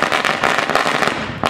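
Rapid New Year's Eve firecrackers crackle and pop loudly in a dense string of bangs, close by, for about a second and a half.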